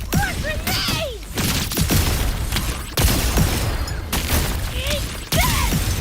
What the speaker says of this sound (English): Time to cook with fire! More grenades!